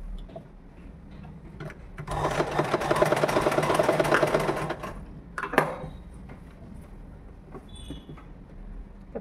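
A sewing machine stitches a girl's umbrella frock in a steady, fast mechanical run of about three seconds, loud and close, with quieter handling noises before and after.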